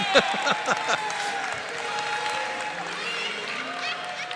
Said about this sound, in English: And the Duquesne fans applauding